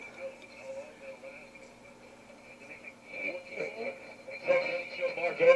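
A 1927 Atwater Kent Model 37 radio plays a faint broadcast with echo under steady hum and tonal whine, and the muffled programme voice grows slightly louder and busier toward the end.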